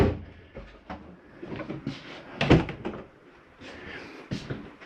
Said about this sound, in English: Make sure all doors and drawers are closed.